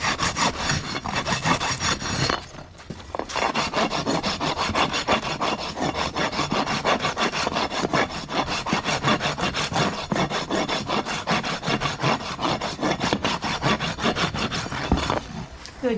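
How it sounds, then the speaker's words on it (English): A farrier's rasp files a horse's hoof in steady, rapid rough strokes, close and continuous, with one short pause early on. "You can do it from the floor with the rasp on the floor."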